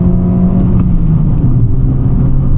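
Fiat 500 with a 1.2-litre four-cylinder petrol engine revving, a steady loud drone heard from inside the car that holds its pitch with slight wavering, and no talking.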